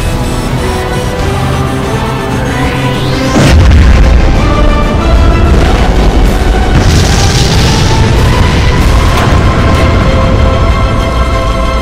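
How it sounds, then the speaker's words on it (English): A loud explosion from a sci-fi drama bursts in suddenly after a steady droning hum, a deep booming blast followed by a long roaring rumble that stays loud and sustained to the end. "Hillard's going to explode!"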